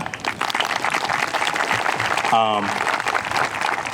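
Graduation ceremony audience applauding loudly and steadily throughout, a dense crowd clapping with a brief tonal sound rising over it midway.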